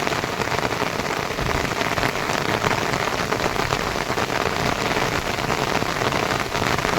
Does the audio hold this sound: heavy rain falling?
yes